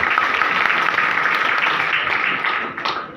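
An audience at a youth guidance event in Mumbai breaks into applause, a dense, loud wash of many hands clapping at once that holds steady and then begins to taper off near the end.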